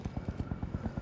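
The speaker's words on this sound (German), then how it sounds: "Da kommt der Helikopter." Helicopter rotor in Call of Duty: Modern Warfare arrives for an extraction, its blades chopping in a fast, even run of heavy thumps that sounds close and loud.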